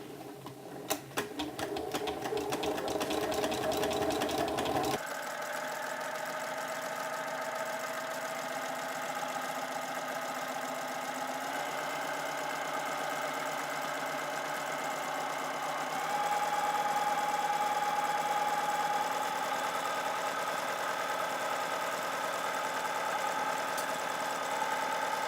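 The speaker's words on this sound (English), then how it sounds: "And now I'm just going to sew those top shoulder seams." A sewing machine stitches the shoulder seams of a batwing top, running steadily and close by for the whole stretch with an even, continuous mechanical whir and no talking.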